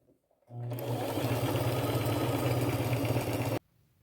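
A sewing machine runs a zigzag stitch across lace in one steady, loud burst of about three seconds, its motor humming with a rapid mechanical rattle before stopping abruptly.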